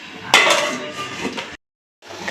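A metallic clank as a lid settles onto a pot, followed by a brief rattle, a short silence, and faint kitchen noise.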